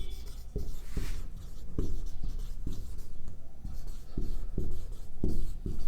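Chalk tapping and scraping across a classroom board during a biology lecture on absorption in the small intestine, a series of short, sharp strokes in an irregular rhythm, close and fairly loud, with no speech.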